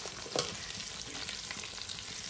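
Raw jackfruit fries in a pan with ginger and green chillies, a quiet, close sizzle broken by irregular scrapes and clatters of stirring.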